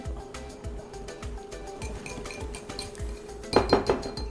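Mayonnaise and egg yolk being mixed in a bowl for a Samyang Buldak carbonara ramen, with a steady run of utensil scrapes and clinks against the dish and a louder burst of clinking near the end.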